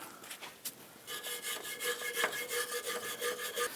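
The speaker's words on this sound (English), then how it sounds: "use a bristle brush and clean up where the control arm and the cam bolts are going to go" A bristle brush scrubs the control arm and cam bolt mounting area on a 2006-2010 Hummer H3, giving a close, steady series of rough rasping strokes after a few brief scrapes.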